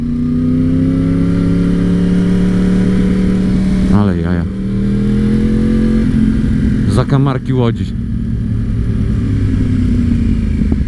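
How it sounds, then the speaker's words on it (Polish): A Honda CBR 1000RR engine hums steadily while riding, its pitch climbing gradually, then briefly dips with a couple of quick rev blips, close and loud, as a rider talks over it. "Z moim poprzednim motocyklem, czyli Ceberką 1000RR"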